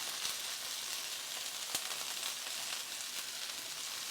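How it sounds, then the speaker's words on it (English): Cumin, coriander, turmeric and cayenne sizzling as they are stirred in a hot pan, a soft continuous frying hiss with faint scraping and a small clink, fairly quiet and without talk. "we're going to stir that all together like that."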